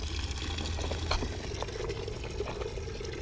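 Water runs steadily into buckets, a continuous rushing pour with faint splashes, close and fairly loud, with no voices.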